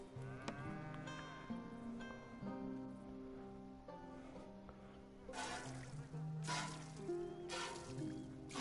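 A cow moos while being milked in Red Dead Redemption 2, low drawn-out lowing calls repeating several times, soft and fairly close, with light trickling and ambient background.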